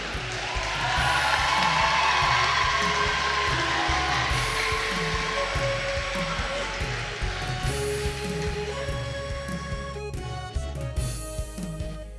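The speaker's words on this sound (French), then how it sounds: "Je vous demande de les applaudir chaudement, s'il vous plaît." An audience applauds a graduating class at a thanksgiving Mass, with a sustained wash of clapping and crowd noise that stays loud throughout while music or a sustained tone runs underneath and fades near the end.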